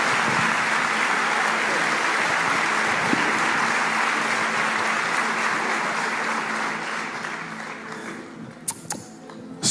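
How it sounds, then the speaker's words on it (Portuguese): A church congregation applauds, a loud dense wash of clapping that holds steady for several seconds, then thins and fades out with a few last scattered claps. "Quero que você aplaude ao Senhor pela vida do pastor Marco Feliciano."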